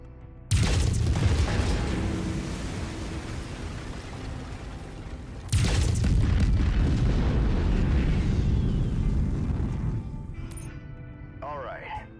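Heavy laser weapons on a mech in MechWarrior 5 fire in two long, loud bursts, each opening with a sharp onset and sustaining a roaring blast that slowly fades, followed by a brief electronic chirp at the end.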